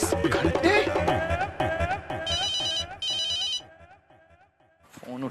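A telephone rings twice in short electronic bursts behind loud dramatic music and voices in a Hindi TV serial scene, then the room falls quieter.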